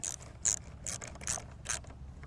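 Brake caliper bolts being tightened on a Juiced Bikes Scrambler e-bike, with a series of about five short, sharp ratcheting clicks at an uneven pace, close by and alone, over a low background rumble.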